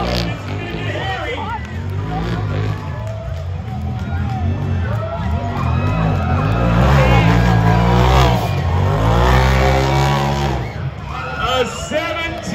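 An off-road truck races at a Tuff Trucks event in Prineville, Oregon, its engine roaring and revving hard as the back wheels spin, loud and near, with crowd babble and a commentator talking over it throughout.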